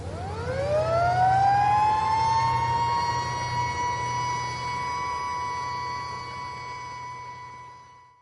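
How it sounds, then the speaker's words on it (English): Civil defense air raid sirens across Israel wail up to a steady high pitch and hold, loud and sustained over a low rumbling hum, with no voices. "civil defense sirens screamed into life across Israel"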